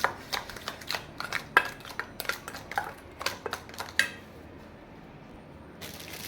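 Hilsa fish pieces for steamed bhapa ilish are worked together with spices and mustard oil in a bowl, giving a run of close, sharp clinks and scrapes at an uneven pace before a quiet pause and a last burst of scraping, with no voices.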